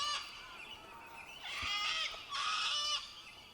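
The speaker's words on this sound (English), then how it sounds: "That's a sulfur-crested cockatoo." A sulfur-crested cockatoo gives two loud, harsh, raspy screeches in quick succession, close by and alone.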